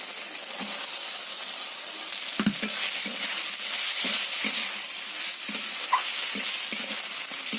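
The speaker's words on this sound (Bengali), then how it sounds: "ঢ্যাঁড়সগুলো দিয়ে খুব ভালো করে কষিয়ে নিতে হবে" Fried okra stir-fried in a pan with turmeric and Kashmiri chilli powder, a close, continuous sizzle with repeated spatula scrapes and knocks against the pan.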